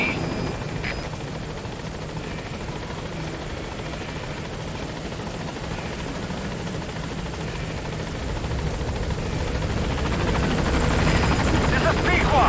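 The Pequod helicopter in Metal Gear Solid 5 flies in to a landing zone, its rotor a continuous thrumming that grows louder and closer toward the end.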